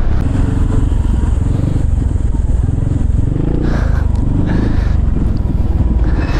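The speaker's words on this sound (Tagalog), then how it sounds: "Ayaw daw mag-start yung motor niya." A motorcycle with a broken gear is cranked repeatedly, but the engine never catches, producing a loud, close rumbling clatter with scraping and mechanical knocks throughout and faint voices in the background.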